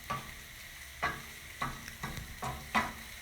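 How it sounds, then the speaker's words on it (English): Cream being stirred into mushrooms in a pan, a quiet sizzle broken by six regular spoon strokes about half a second apart, close by and soft. "I'm going to add a little bit of cream, just enough to wet the mushrooms, not very much. And I'm going to stir that in"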